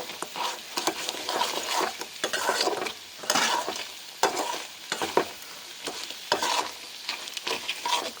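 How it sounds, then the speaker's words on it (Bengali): Crab curry is sautéed in a pan, the frying spices sizzling in loud bursts as a spoon stirs and scrapes against the metal, with occasional clinks of cookware between the waves of hiss. "এখন সুন্দর করে কষিয়ে নেব।"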